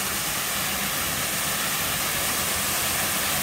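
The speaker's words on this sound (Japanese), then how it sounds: "じゃなく滝だね、ここが。" A waterfall at a shrine site in Aizu-Wakamatsu, Fukushima, heard as a steady broadband rush of falling water, continuous and fairly loud throughout with no voices.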